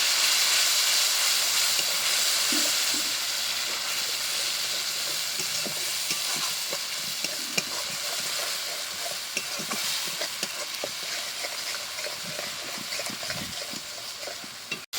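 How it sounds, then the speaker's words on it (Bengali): Spice paste of chilli powder, cumin and coriander powder with a splash of water being sautéed in a pan for a fish curry, a steady close sizzle with frequent spatula scrapes and stirring clicks throughout. "এবার অল্প একটু জল দিয়ে খুব ভালো করে মশলাটাকে খানিকক্ষণ ধরে কষিয়ে নেবে"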